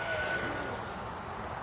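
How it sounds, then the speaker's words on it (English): A northbound Toronto subway Line 1 train passes on the tracks along Allen Road, a steady rumbling rush of wheels and rail noise with a faint high whine, heard from nearby without anyone speaking. "Here goes the northbound Line 1 train."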